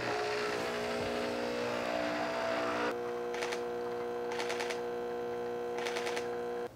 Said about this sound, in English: So we'll go ahead and start the espresso and we'll see what we can do.